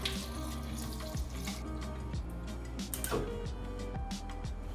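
Running water splashes steadily into a pot of snow fungus dessert soup with pear and pandan leaves, a continuous close pour with a few clinks of ingredients or utensils against the pot.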